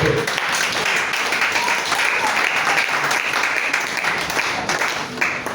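A church congregation at a French-language Sunday morning service applauds continuously, a loud, dense wash of many hands clapping that holds steady for several seconds, with faint voices mixed into the crowd noise.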